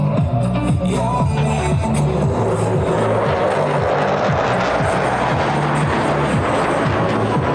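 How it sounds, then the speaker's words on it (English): US Navy Blue Angels jets fly at an airshow, their engines roaring loudly and continuously overhead with a deep, throbbing rumble that holds steady throughout. "As each aircraft accelerates to 500 miles per hour, they will perform a half-Cuban 8 reversal turn."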